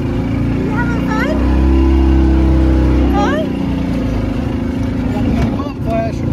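A car engine rumbles steadily and revs as the car pulls away with a livestock guardian dog riding inside. High whining cries rise over the drone, and a voice talks throughout.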